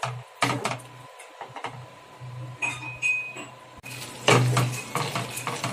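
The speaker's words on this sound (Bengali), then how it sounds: "মশলাটি কচার সময় এইভাবেই কন্টিনিউ নাড়তে থাকতে হবে যাতে কোনোভাবে তলায় লেগে না যায়" Masala for a chicken and potato curry being stirred in a pot over low heat, with spoon scrapes and metallic clinks against the pan, some louder knocks, and a faint hum beneath, with no voices.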